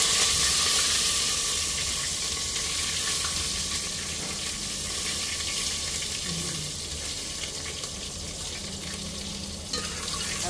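Chillies and curry leaves frying in hot oil for chevda, a dense, steady sizzle that continues without pause, close up, with no talking.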